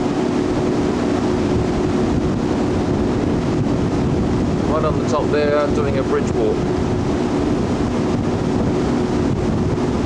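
Steady wind rushes and buffets the microphone beside Sydney Harbour near the Harbour Bridge after heavy rain and showers, a constant roar with water noise beneath, while a person talks briefly over it.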